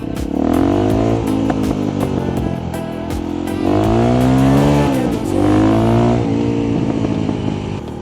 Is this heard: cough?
no